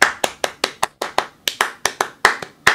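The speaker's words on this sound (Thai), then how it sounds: "ขอเสียงปรบมือ" Steady rhythmic hand clapping, about a dozen crisp claps at an even pace, close and fairly loud with no voices over it.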